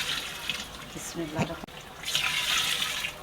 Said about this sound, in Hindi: अभी डालूंगी मैं इसमें पानी।